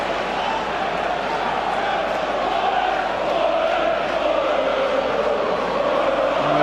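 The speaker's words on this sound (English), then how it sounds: "Well, the goal, that's really got the crowd going" Football crowd at a Premier League match, Middlesbrough against Manchester United, roaring after a goal: a dense, sustained stadium roar with rising chant-like swells, loud and continuous, with no distinct individual voices.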